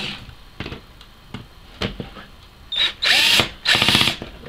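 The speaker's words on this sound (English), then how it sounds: "Right, I got my drill." A handheld power drill whirs in several short bursts, rising to two louder, longer runs near the end, mixed with handling clatter and faint background noise.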